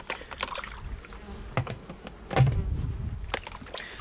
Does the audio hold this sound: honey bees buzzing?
yes